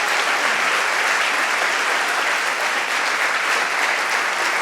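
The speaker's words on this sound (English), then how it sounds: "He and Rhonda deserve a round of applause for all they've done." A large audience at a children's champion celebration applauds loudly and continuously, a dense even wash of clapping that holds without letting up.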